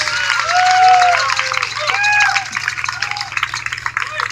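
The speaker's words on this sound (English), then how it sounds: "Give yourself a round of applause for being here, supporting, making a stand, making a difference." Outdoor crowd at an oil refinery protest in Anacortes, Washington, applauding and cheering in a dense burst that peaks early then thins into scattered claps, with whoops rising over it and a low steady hum underneath.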